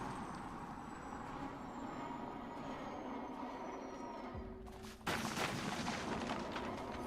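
Flechette launcher firing in Elite Dangerous: a steady low rumble of sustained gunfire under a thin whine, ending in a sudden loud broadband burst near the end.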